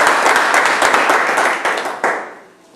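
Congregation applauding at a church service, a dense burst of clapping that holds steady and then thins out and fades near the end.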